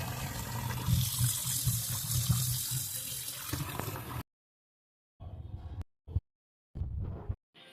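Fresh local tiger prawns rinsed under a running tap, a steady close splash of water for about four seconds, then stopping and restarting in short bursts with brief silences between.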